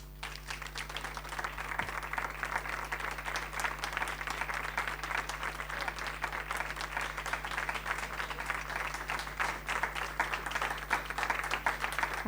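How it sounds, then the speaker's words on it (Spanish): An audience at an honorary doctorate ceremony for Ana María Careaga at UNCUYO in 2024 claps steadily, a long, even stretch of crowd applause heard at a moderate distance over a low electrical hum. "pedimos nuevamente un fuerte aplauso"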